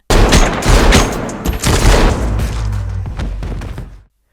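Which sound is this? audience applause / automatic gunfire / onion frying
automatic gunfire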